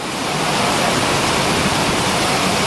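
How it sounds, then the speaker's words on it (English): Heavy rain pours down on the road to Hoi An in Vietnam, a dense, steady roar of broadband hiss that stays loud and unbroken throughout, with no voices. "It is absolutely pouring out there."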